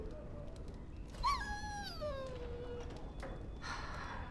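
A dog whines in Dragon Age Origins, a single drawn-out rising and falling whimper, fairly close and clear over a low background hum, followed by a brief higher squeak near the end.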